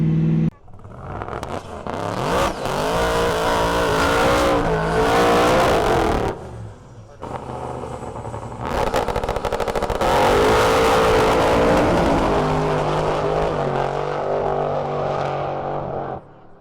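A race car engine revving hard toward red line with a newly fitted fuel pump, loud and close, rising in pitch through repeated pulls with a brief dip midway before climbing again; voices may be faint underneath.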